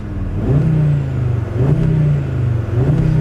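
A new Audi RS3 performance hatch in RS mode revs repeatedly, its engine rising and falling in a deep, throaty sound that stays loud and close with no talk.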